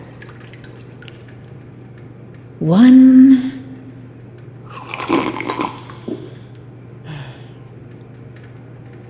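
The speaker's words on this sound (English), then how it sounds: "Now, just 3 sips of water." Three sips of water are drunk in the Bendy and the Dark Revival game: a loud gulping slurp, then a busier sip and a fainter final one, spaced over several seconds against a steady low hum, with a brief spoken count.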